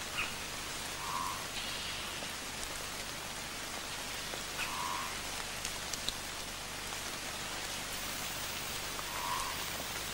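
Soft, steady tropical rain patters continuously, with scattered drips and drops running off green leaves nearby; no voices.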